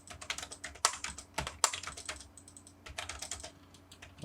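Typing on a computer keyboard while entering values in AutoCAD, with a rapid run of close, crisp key clicks and a few harder presses like the Enter key. No one talks.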